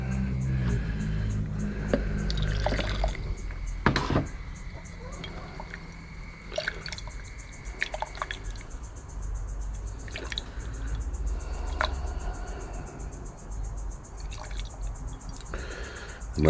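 Water trickling and dripping as gold nuggets are rinsed, a steady wet hiss with scattered drips and splashes, some low background rumble and occasional speech.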